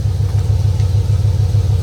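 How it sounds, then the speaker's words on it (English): After a fuel pump fix, a car engine idles smoothly with fuel pressure near 60. The deep, steady rumble pulses slightly in a regular idle rhythm, close up, with no talking over it. "Car's idling better."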